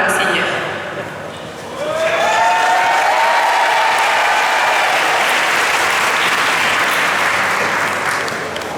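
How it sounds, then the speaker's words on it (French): Crowd applause at a diocesan pilgrimage welcome celebration, starting softly, then swelling into sustained, dense clapping from a large gathering that fills the space for several seconds before easing slightly. "on a applaudi plein de monde"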